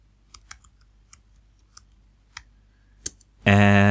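Scattered single keystrokes on a computer keyboard tap out a short phrase, faint and spaced apart against a quiet room, before a sudden loud sustained tone cuts in at the very end.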